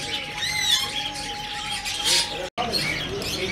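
A breeder pair of grey parrots squawk and chirp in a bird market, sharp loud calls and whistles with a brief gap, mixed with other bird chatter nearby.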